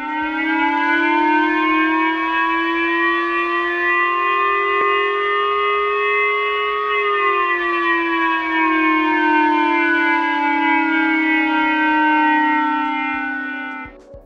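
A loud Japanese TV missile alert tone, issued in 2022 as a North Korean missile flew over Japan, sounds as a sustained wailing siren-like chord that slowly rises and falls in pitch, alone for about fourteen seconds before cutting off.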